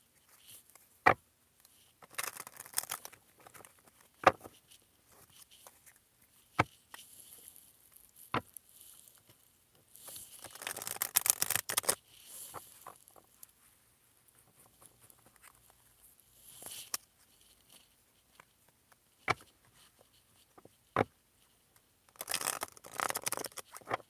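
A deck of tarot cards is shuffled during a reading. Soft, intermittent bursts of riffling and pattering come close by, separated by quiet gaps and a few sharp taps.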